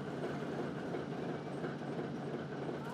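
Train travelling on the old Circumbaikal Railway beside Lake Baikal, a steady dense rumble of wheels and carriages heard from on board, continuous and fairly even throughout.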